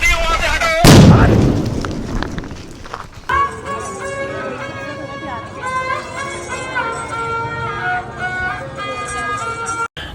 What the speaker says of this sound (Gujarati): આ અમાર કમલેશભાઈ જો બોમ્બ ફોડી રહ્યા.